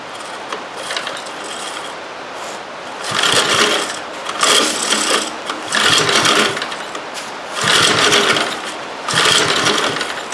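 An eBay generator engine is pulled over without choke: five or six loud rasping recoil-starter pulls in quick bursts, each churning the engine briefly without it catching, close and alone.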